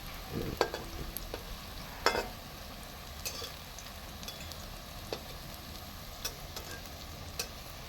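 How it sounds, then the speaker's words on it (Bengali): Bottle gourd fritters (lau dhoka) fry in oil over lowered heat, a faint steady sizzle running throughout with a few soft clinks of a spatula or pan scattered across it. "আঁচটা একটু কমিয়ে ভেজে নিচ্ছি"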